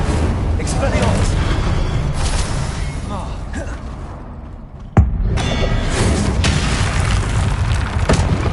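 Spell blasts erupt in the wizarding game Hogwarts Legacy: deep, rumbling booms and whooshing bursts roll continuously, with a sharp impact cracking through midway and voices shouting amid the action.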